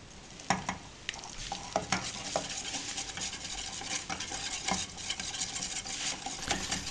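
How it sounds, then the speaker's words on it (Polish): Melted butter and flour are stirred in a frying pan for a mushroom sauce, a gentle sizzle under repeated scraping and clinking of a utensil against the pan, quiet and close. "rozpuszczamy masło na patelni i dodajemy około 2 łyżki mąki. Dodane składniki dokładnie mieszamy"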